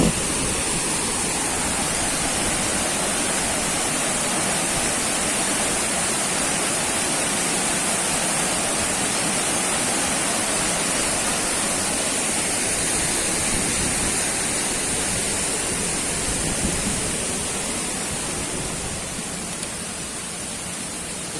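A roaring mountain river in Aladağlar National Park, Yahyalı, Kayseri, rushing in a dense, loud, unbroken wash of water close by, holding steady throughout with no voices.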